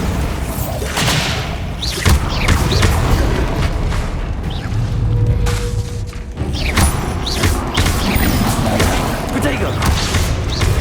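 Bombarda explosion spells go off in Hogwarts Legacy combat as heavy booms and thuds amid a busy mix of clattering battle effects, with a voice speaking over the action.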